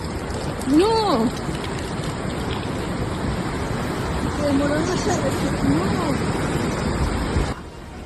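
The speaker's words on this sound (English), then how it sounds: "Heavy rains flooded streets in eastern Argentina, trapping vehicles in water." Heavy storm rain pours down in eastern Argentina, a loud constant wash of noise over flooded streets, with a voice and other rising tonal calls heard over it before it cuts off near the end.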